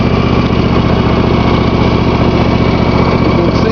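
A riding lawn mower engine runs steadily at close range, a loud, dense, continuous drone with a rough vibrating texture that stays constant throughout, no voices over it.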